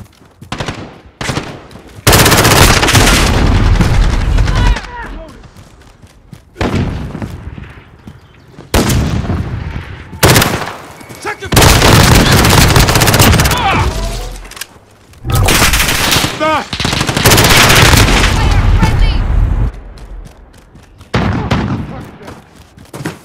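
Bursts of automatic gunfire and heavy shooting in Call of Duty Modern Warfare multiplayer, loud and close, several long sustained volleys separated by brief quieter gaps, with occasional in-game voice callouts mixed in.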